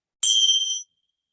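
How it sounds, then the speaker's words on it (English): A single bell strike opens a restorative yoga class: one bright, high chime rings clearly up close, then fades out quickly into silence. "we'll ring the bell"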